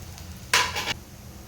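Soybean kebab frying in a pan, turned to cook its second side: a short burst of bright sizzling for under half a second, rising out of a quiet kitchen background.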